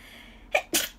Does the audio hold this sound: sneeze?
yes